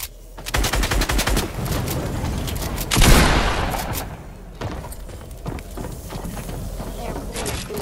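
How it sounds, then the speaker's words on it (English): Shotgun fire in a video game scrim lands as a string of loud, rapid blasts, with a heavier boom around the middle, over game background noise and some talk. "my shotgun made a weird noise"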